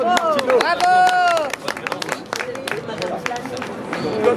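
Audience applause at an opera award ceremony in a Cannes hotel ballroom, scattered clapping running under a speaking voice and a sung or sustained vocal tone, with crowd murmur throughout.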